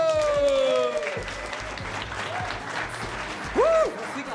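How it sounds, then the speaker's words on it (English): Audience applause for the hosts at a flight simulation awards night, a broad crowd clapping throughout with a cheer and whoops rising near the end, mixed with background voices. "Give a big applause to our hosts tonight, Julius, Callum, Andreas,"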